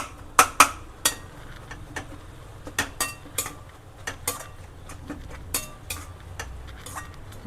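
A utensil mashes cooked dal with coriander in a metal pot, giving sharp irregular clinks and scrapes against the pot over a quiet background, some knocks louder than others.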